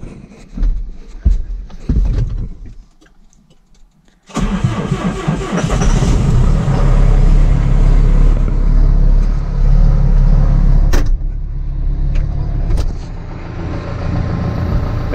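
A John Deere 6320 tractor engine cranks and starts after a few seconds of quiet, then settles into a loud, steady diesel rumble close by as the tractor pulls away, with the sound easing slightly near the end.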